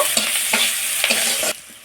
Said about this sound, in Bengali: পেঁয়াজটা একটু এইরকমভাবে ভাজা ভাজা করে নেব।